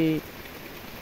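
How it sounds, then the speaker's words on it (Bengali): Heavy early-morning rain in a village falls as a dense, even hiss of drops on surfaces. A short voiced sound opens the moment before the rain continues alone. "আর কি বৃষ্টি কি বৃষ্টি"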